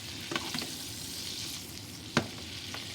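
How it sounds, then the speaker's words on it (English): Salmon fillet sizzles steadily in garlic butter in a pan, a constant frying hiss broken by a few sharp spoon clinks and spatters as the butter is basted over it, no voices. "base it with the butter that has that garlic flavor"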